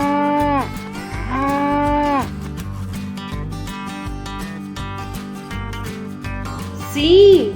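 Cow mooing, two long, loud moos one after another, then a lighter musical jingle and a short rising tone at the end.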